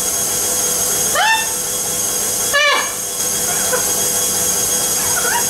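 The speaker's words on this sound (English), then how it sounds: "you need to put your sugar and butter in your mixer" Stand mixer creaming sugar and butter: a steady, loud whirring motor hum running throughout, close and constant, with brief rising tonal sweeps as the speed or load shifts.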